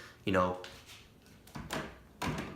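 A man imitates the sound of someone trying to open a basement door with a few short vocal rattling and creaking noises in separate bursts, close and moderately loud, alongside his speaking voice.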